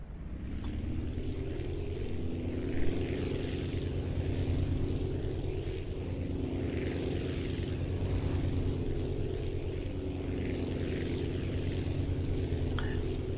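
A propeller aircraft takes off in the video game Aviassembly, producing a steady, low, droning engine hum with a constant pitch that continues without break throughout, with no talking.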